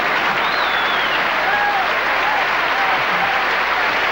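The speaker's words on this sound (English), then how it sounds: "a round of applause for these 2 wonderful sports" Applause from a theatre audience at a Royal Variety Show, a steady, dense wash of clapping that fills the room without breaks, with faint voices mixed into it.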